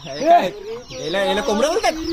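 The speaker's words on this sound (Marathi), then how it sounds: "इथं तर जाम दिसायला लागल्यात कोंबड्या बघा कोंबड्याच कोंबड्या" Chickens cluck loudly and close by in a quick, chattering series of calls.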